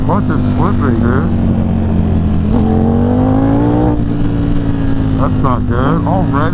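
A high-performance sport motorcycle with a slipping clutch revs up and down in rising and falling sweeps, loud and close, under continuous talking.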